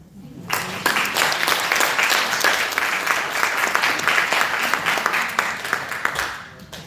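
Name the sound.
audience applause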